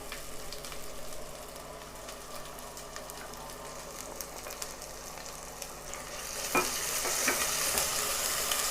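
Ground masala frying in a pan for Telangana-style chicken fry makes a continuous sizzle with scattered stirring scrapes, growing louder and brighter near the end as more goes in.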